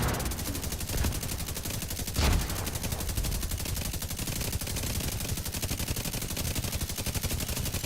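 Weapons fire in the video game The Division 2 as a dense, sustained stream of rapid automatic shots. The burst is loud and rhythmic and carries on almost without a break, and one heavier blast lands near the start.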